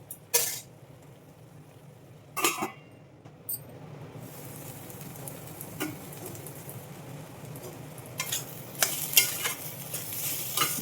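Yellow cucumber curry with fenugreek chili powder simmers quietly in an oiled pan under a soft, steady sizzle, broken by several close scraping stirs of a spoon against the pan; no one speaks.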